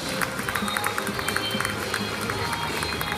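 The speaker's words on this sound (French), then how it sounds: "Vous pouvez l'applaudir chaleureusement." An indoor crowd at the Paris agricultural show claps steadily to applaud a Percheron draft horse presentation, a dense, even wash of applause with faint rhythmic thuds and murmuring voices underneath.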